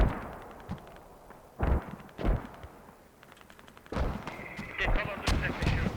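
Mortar fire in the tactical shooter game Squad: several heavy thumps and booming bursts at uneven intervals, some near and some farther off, with voices speaking over the action.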